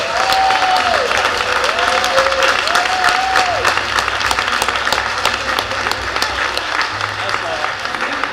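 An audience at a school board meeting breaks into loud, sustained applause, dense clapping filling the room with a few raised voices and cheers rising above it throughout.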